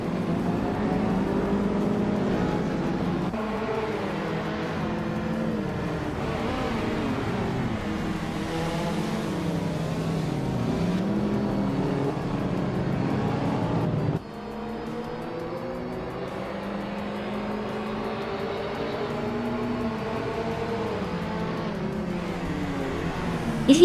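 Race cars in a racing video game drone and whine continuously, with engine pitch rising and falling as they accelerate and pass. The sound stays loud and steady throughout with no talk.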